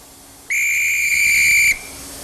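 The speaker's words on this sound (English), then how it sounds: "That's a railway whistle." A railway whistle, made by a Birmingham firm, blown once in a loud, shrill, steady blast that lasts just over a second and stands alone over quiet room noise.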